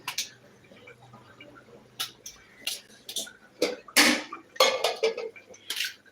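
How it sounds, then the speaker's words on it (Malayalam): Tapioca (kappa) being finely chopped with a knife on a board, irregular close chopping knocks and clatters coming in scattered bursts, with no talking. "നന്നായിട്ടൊന്ന് കൊത്തി അരിഞ്ഞു കൊടുക്കുക"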